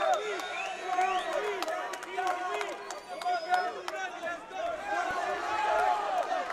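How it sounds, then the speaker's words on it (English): A boxing crowd chants and roars steadily for a Colombian fighter at an international combat event, a dense wall of voices with rising cheers and scattered shouts throughout. "You can hear the crowd calling for the warrior, the Colombian warrior."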